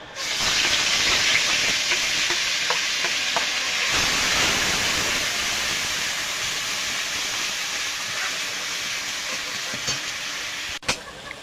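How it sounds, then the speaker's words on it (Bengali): Onion-garlic paste fries in hot oil for rui fish kalia, giving a loud, steady close-up sizzle and hiss that fades slightly, with a sharp clatter near the end. "তেলটা গরম হয়ে গেছে, এবার আমি পেঁয়াজ রসুন বাটা দিয়ে দেবো মাছের কালিয়া রান্না করার জন্য"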